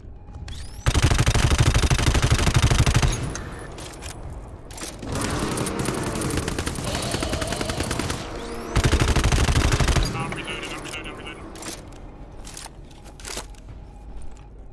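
Heavy automatic gunfire in the co-op shooter GTFO, sustained bursts blasting loudly in several long volleys with short gaps, followed by scattered lighter shots and clatter as things calm down.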